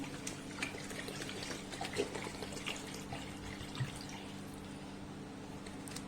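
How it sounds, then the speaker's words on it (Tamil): About half a litre of water runs steadily and softly into a pot for tomato soup, a continuous faint trickle with occasional small splashes over a low hum. "இதுல 1/2 லிட்டர் நான் தண்ணி சேர்த்துக்கிறேன்"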